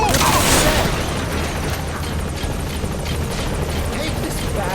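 Helicopter from the video game Metal Gear Solid V, its rotor beating steadily throughout amid a dense game soundscape with some booms, while voices speak over it.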